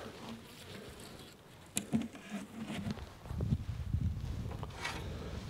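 Honey bees buzzing around an open apiary hive in early spring, a soft continuous hum with brief nearby bumps and rustles, no talking.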